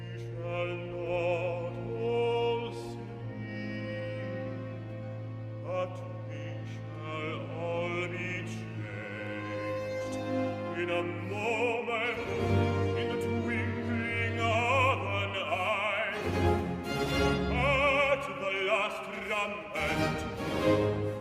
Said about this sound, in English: What you just heard is an example of recitative